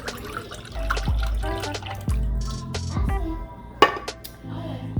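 Orange and pineapple juice from a small can is poured into a dish in a home kitchen, giving a steady liquid splash with a few drips, over background music.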